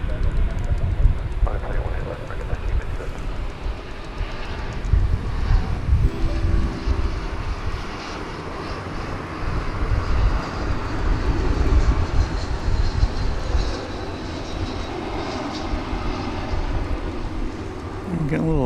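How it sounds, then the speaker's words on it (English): An Airbus A321 airliner comes in to land at Dallas Fort Worth Airport on a humid, overcast day. Its jet roar is a broad rumble that swells and fades while a person talks nearby. "This will be an Airbus A321 arriving from Spokane."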